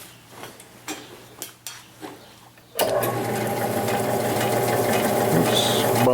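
A Hamilton lathe spins up with a torch-cut shaft chucked in, preceded by a few light knocks and clanks, then settling into a steady, fairly loud mechanical whir with a faint hum that runs to the end.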